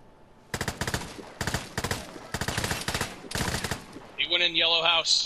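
Video game gunfire sounds out in several rapid automatic bursts separated by short pauses, loud and close, with a voice speaking near the end.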